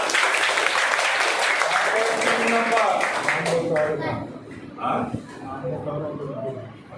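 Children clap together at a primary school quiz game, a burst of close applause that rises over loud chatter and voices, then fades as talking continues.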